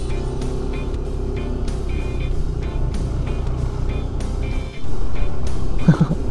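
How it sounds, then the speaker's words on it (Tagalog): Steady traffic hum from cars and trucks stuck in a long jam on Kennon Road in the Benguet mountains near Maramal Bridge, a continuous low engine drone with a brief rise near the end, no talk. "Traffic ahead."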